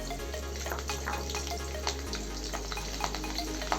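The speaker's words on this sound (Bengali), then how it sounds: "এখন আমি কি করব, কাঁচা লঙ্কাটা ভেজে নেব।" Green chilies fry in hot oil in a pan with a continuous close crackle and sizzle, scattered pops and light stirring over a low steady hum.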